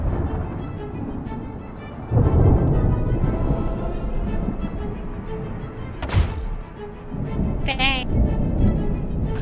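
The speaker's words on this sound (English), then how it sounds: "A storm has broken!" Thunderstorm in the video game Smalland: Survive the Wilds, a heavy, continuous rumbling roar with a sharp crack midway and a loud swell of thunder, with voices talking over it.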